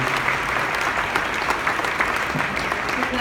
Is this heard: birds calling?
no